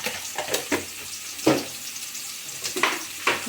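A lime-sized lump of tamarind fries in a pan with ivy gourd for chutney, producing a soft, intermittent sizzle punctuated by sharper spits and stirring scrapes.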